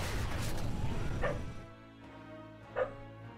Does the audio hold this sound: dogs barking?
yes